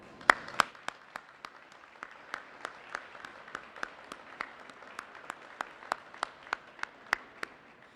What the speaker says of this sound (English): Please join me in giving our Illinois National Guard a big round of applause.